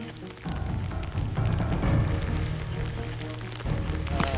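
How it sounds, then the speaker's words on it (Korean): Heavy rain pours steadily on the mountainside of an active Indonesian sulfur-mining volcano, a dense continuous hiss with a faint low rumble beneath. "심지어 굵은 빗방울이 떨어지기 시작한다."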